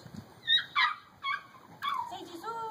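Six-week-old puppies give several short, high whimpers and yips, fairly close and separated by brief pauses, with a little soft background noise.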